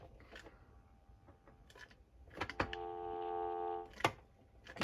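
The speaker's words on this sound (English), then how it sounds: "I'm going to pick up the handset for you, and we'll do the usual BB dial tone." A 1971 Socotel S63 telephone from France: handset clicks and clunks as it is lifted, then a steady buzzing dial tone sounds for about a second, close up, with a few handling knocks around it.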